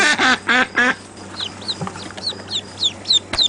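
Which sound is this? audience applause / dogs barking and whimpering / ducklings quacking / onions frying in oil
ducklings quacking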